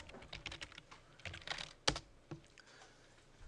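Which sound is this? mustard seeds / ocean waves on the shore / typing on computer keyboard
typing on computer keyboard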